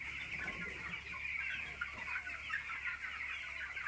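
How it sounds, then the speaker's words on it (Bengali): A crowded flock of broiler chickens on a poultry farm clucks continuously, a steady layered chatter of many birds close by with no other sounds. "এইটা হচ্ছে আমার পোলট্রি মুরগি, ব্রয়লার মুরগি যেটা আমরা চাষ করি"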